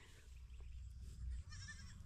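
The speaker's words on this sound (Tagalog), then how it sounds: "Kambing." Goat bleating close by at a rural town celebration, a single wavering bleat rising over a steady low hum of background crowd and ambient noise.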